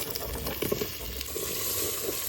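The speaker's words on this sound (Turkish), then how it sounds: "Güzelce karıştırıyorum." Garlic and carrots sauté in a Philips All In One Cooker with a steady low sizzle, and spoon scrapes and stirring taps cluster near the start and middle. The sound is close and moderately quiet, with no talk.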